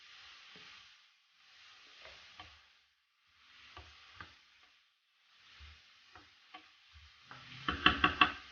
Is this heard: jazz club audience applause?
no